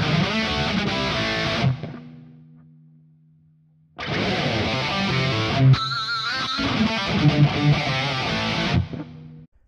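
Double-tracked distorted electric guitar played through two Mark 2C Plus amps, loud dense riffing that stops briefly into a faint sustained tail around two seconds, then resumes at full level until the end, with no backing track.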